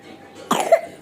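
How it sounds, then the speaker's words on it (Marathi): Someone with a cold coughs twice close by, a sharp first cough followed by a second short one, in a quiet room. "खोकला येतोय."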